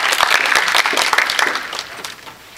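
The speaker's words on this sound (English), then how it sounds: "So let's give Renata a round of applause." Audience applause after a speaker's introduction at a talk, a dense burst of clapping that starts loud and gradually thins and fades over a couple of seconds.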